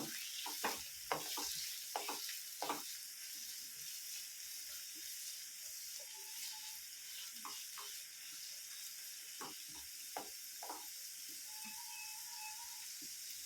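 Finely chopped onion sautéing in a pan for a masala dosa filling, giving a soft, steady sizzle broken by clicks and scrapes of stirring, with no voices.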